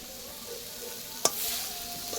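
Onion frying in a pan for a prawn and water spinach dish, a soft continuous sizzle with one sharp scraping stir of a spatula partway through.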